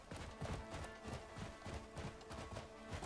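A horse in the video game Crimson Desert trots with a steady, rhythmic clip-clop of hooves, moderately loud and continuous with no talking over it.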